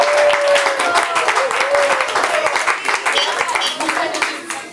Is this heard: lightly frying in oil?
no